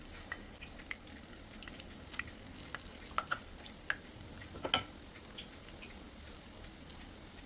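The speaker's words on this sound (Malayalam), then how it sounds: "ഇനി നമുക്ക് ചൂടായ ഓയിലിലേക്ക് സ്നാക്ക് ഇട്ടൊന്ന് ഫ്രൈ ചെയ്തെടുക്കാം" A banana and egg snack fries in hot sunflower oil, giving a soft, steady sizzle with scattered light pops and crackles, faint and close, with no talking.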